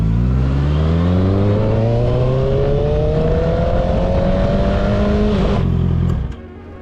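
A loud, close four-cylinder motorcycle engine revs steadily upward in a long smooth climb, then drops off abruptly near the end.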